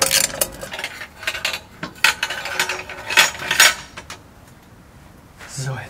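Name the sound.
ratchet with long socket loosening motorcycle exhaust header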